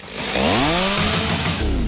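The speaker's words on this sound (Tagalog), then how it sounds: "Gagamit ako ng chainsaw." A chainsaw engine revs up loudly and close, its pitch rising then holding at a buzzing high whine for a couple of seconds.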